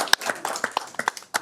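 Scattered, uneven hand claps from a small group at a school board meeting, a handful of sharp separate claps rather than full applause, fairly close and fading out quickly.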